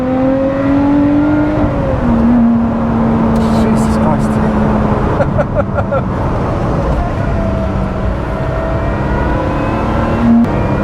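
Lotus Exige Sport 390 Final Edition engine pulling hard on the move, a loud steady drone that rises and shifts in pitch with gear changes, with tyre and road roar beneath and someone talking over it.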